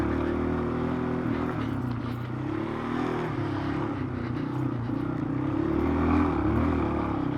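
Yamaha XT225 motorcycle engine droning steadily while riding over rocky, eroded terrain, a continuous near hum with wind rush and no break in the sound.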